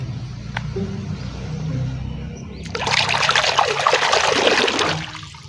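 Clean water poured over toy cars being washed, starting as a quiet trickle and then turning into a louder splashing stream for a few seconds before it eases off, close by with no talk.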